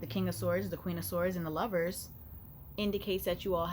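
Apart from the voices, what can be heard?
No everyday noise stands out behind the speech.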